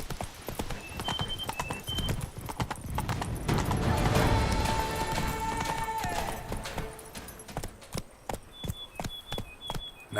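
Geralt's horse Roach galloping in The Witcher 3, a fast, loud rhythm of hoofbeats close by, with a brief whinny and the clatter fading into scattered steps near the end, no talking.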